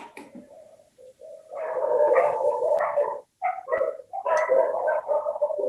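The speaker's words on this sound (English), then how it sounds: "There is a lot of fighting going on my street right now. The dogs. Territory fight, yeah? We hear it." Dogs fight over territory on a street, with a ragged run of overlapping barks and snarls that continues with brief pauses, heard from a distance with a bird calling faintly.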